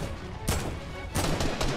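Gunfire in Fortnite lava mode, dense rapid shots in two loud bursts separated by a brief lull, close and harsh, with no talking.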